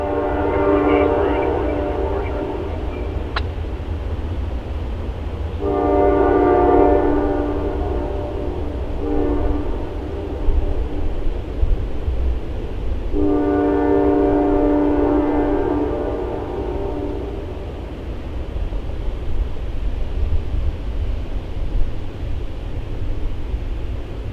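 Train 200, nine cars behind a single locomotive, rumbles past on a sunny October evening in northern Indiana, its horn sounding in several long blasts over steady rail noise.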